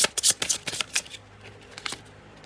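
Tarot cards are shuffled close by in a rapid, fluttering riffle of crisp papery slaps that slows and fades after about a second.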